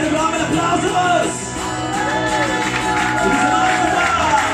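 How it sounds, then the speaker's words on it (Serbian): A concert audience in a beer bar applauds and cheers for several seconds, a dense wash of clapping with shouts and whoops on top, while a voice carries over the crowd. "aplauz za vas!"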